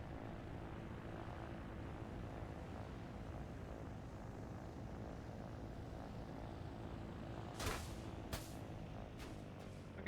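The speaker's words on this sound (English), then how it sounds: "the fact that the helicopter blades just turn off" Helicopter rotor blades spin in a video game as a steady low droning whir, with a few sharp bursts of other game sounds near the end.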